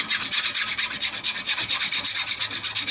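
A metal ferrule for a woodturned scratch awl is rubbed back and forth across a file to clear burrs, making steady, rapid rasping strokes in a close, loud, continuous rhythm with no talking.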